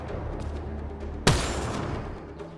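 A single sharp sniper shot rings out in the Mass Effect: Andromeda video game, standing clearly above a steady low background hum and then fading into a brief reverberant tail.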